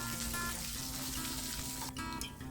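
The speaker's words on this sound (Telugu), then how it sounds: "వేసుకుని కొంచెం ఆయిల్లో ఫ్రై చేసుకున్నాను" Drumstick pieces fry in oil with curry leaves for a South Indian sambar, a steady soft sizzle with faint watery crackle running throughout at moderate distance.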